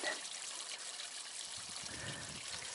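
A repaired garden water fountain trickling outdoors in spring, a steady soft splash of falling water with a faint low rumble joining partway through.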